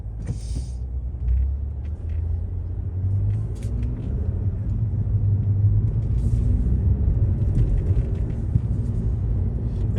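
A dump truck rolls along a street in Milledgeville, Georgia, giving a steady, heavy low engine rumble that swells slightly as it passes, with a brief hiss near the start.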